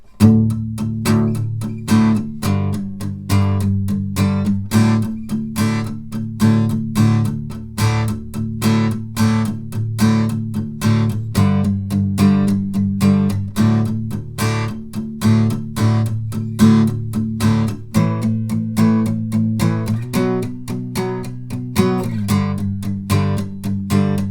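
Guitar strumming the verse chord progression of a song, steady rhythmic strums with regular chord changes, played alone without voice for the whole stretch.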